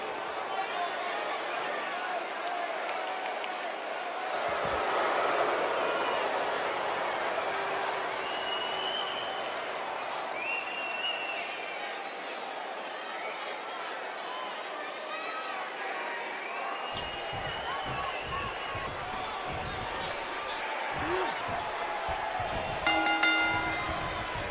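Arena crowd at an RWL Legends Showdown wrestling event in Cincinnati cheering and chattering steadily before the match, a dense continuous roar with a few louder swells and a brief burst near the end.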